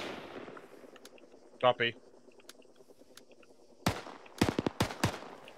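Gunfire in the video game ArmA 3 during a large-scale co-op battle: a brief close burst early, then several sharp, loud shots in quick succession near the end, over a low background rumble, with a short radio-style voice reply between them.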